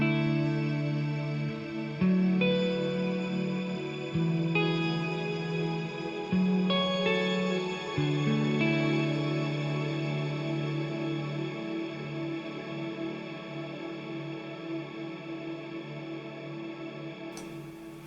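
Electric guitar played through a Walrus Audio Mako R1 stereo reverb pedal, sustained notes and chords ringing into a lush, long wash of reverb that slowly decays, alone and close.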